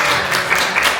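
Audience applause at a luncheon program, a loud, dense burst of clapping from a room full of people, brief and sustained.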